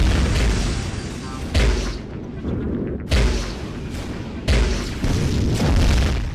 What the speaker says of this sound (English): Okay, my ship is destroyed.